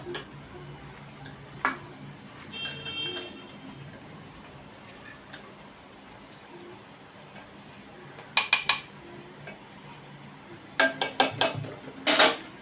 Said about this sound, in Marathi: आता ही डाळ घातली आहे मी गॅसवर त्याच्यात आपण आता हे गूळ घालूया